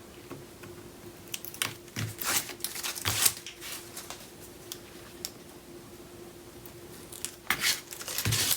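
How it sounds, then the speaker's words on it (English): Cardstock for a mini album base is folded and creased by hand at close range, with soft rustling and scattered sharp crinkles and taps, a faint steady hum running underneath. "Now we're ready to actually start folding it over."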